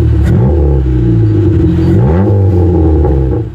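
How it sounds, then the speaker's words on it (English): A Mustang V8 with a bad muffler revving close by, loud and rough, the exhaust climbing in pitch twice in quick blips before settling back to a rumbling idle. "You could easily hear that this isn't the normal V8 rumble we should be hearing"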